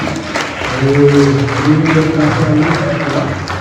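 Audience applause at a wedding reception, a loud, continuous wash of clapping with voices talking and calling out over it throughout.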